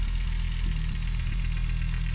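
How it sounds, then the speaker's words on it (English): A Porsche engine idles steadily, giving a continuous low rumble with a faint rhythmic knock, heard up close for a couple of seconds with no voices. "there's another good listen to the engine at idle"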